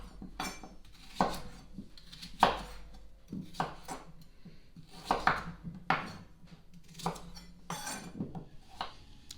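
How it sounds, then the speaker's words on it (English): A knife chops turnip into inch-size pieces on a board, making sharp, close knocks in an uneven rhythm with short pauses between cuts. "The turnip, we're going to cut these in like inch size pieces."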